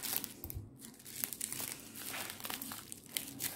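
A small AliExpress parcel holding earrings is torn and crinkled open up close, with steady plastic crumpling and a few sharp tearing bursts, no voices.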